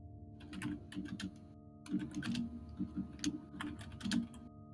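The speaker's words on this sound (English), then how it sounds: "I'm not even typing that loud." Computer keyboard typing in quick irregular bursts of plastic key clicks, close and fairly loud, with short pauses between runs and a steady low hum underneath.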